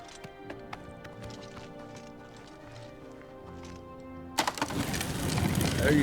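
Hooves clip-clop in the video game Oblivion Remastered, a few light steps over steady game music, then a louder rush of galloping and movement noise that builds toward the end.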